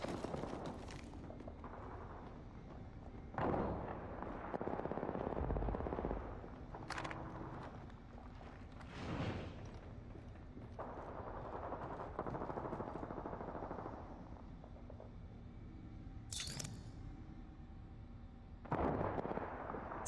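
Gunfire in the video game Apex Legends comes in faint, scattered bursts of rapid shots and sharp blasts against a low, steady background rumble, with no talk.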